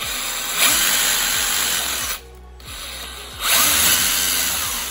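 The small electric motor of a 1/10 scale RGT EX86190 LC76 Rescuer RC crawler spinning its wheels in second gear whines at high speed with a steady buzzing drone, briefly drops off for about a second, then revs back up.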